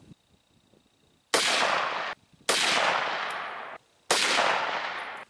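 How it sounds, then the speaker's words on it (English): Two shotguns, an R1 and an R1 Pro with a Comfort Tech stock and cheek rest, fire three loud separate blasts outdoors, each a sharp crack followed by a long ringing decay, with quiet gaps between. "We've taken 2 shots with the R1 and the R1 Pro."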